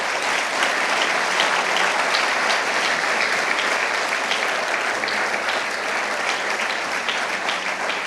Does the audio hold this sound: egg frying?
no